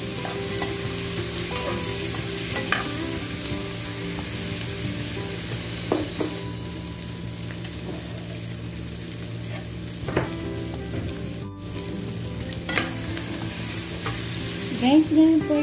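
Fish frying in a pan for a sweet potato and mixed vegetable dish, giving a steady crackling sizzle throughout with occasional sharper pops and stirring clatter near the end.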